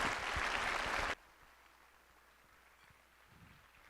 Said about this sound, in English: one more round of applause for Jalon